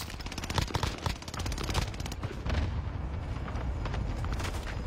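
Rapid bursts of video game gunfire crackle continuously from several directions, with dense repeated shots and booms of a firefight heard from inside a tunnel.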